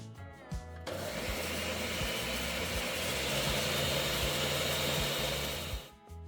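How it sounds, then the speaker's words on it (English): A blender grinds a couple of cups of oats into powder, whirring loud and steady for about five seconds after a brief start-up, then spinning down, with no talk. "put a couple of cups of oats in the blender and just blend them up really well"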